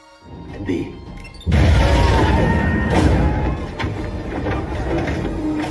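A sudden loud, heavy bomb blast in a film booms in and sustains as a dense rumbling roar with crackling debris, preceded by a brief quieter stretch.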